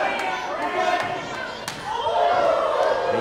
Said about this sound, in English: That knife edge chop ring all throughout the Masonic Temple.